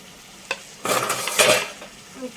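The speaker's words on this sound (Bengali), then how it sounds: "চাটনিটা হয়ে গেছে এবার নাড়িয়ে দেবো" Mango chutney being stirred in a pot, a brief scrape followed by two bursts of spoon-against-pot scraping and bubbling, close and clear with no talk.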